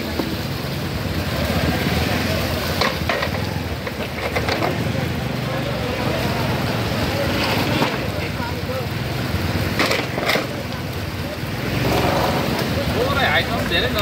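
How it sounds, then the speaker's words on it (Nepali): Large volume of water pouring out of a drainage pipe at a flooded street junction, a steady loud broadband rush running throughout with brief surges and wind buffeting on the microphone. "कति धेरै पानी रहेछ"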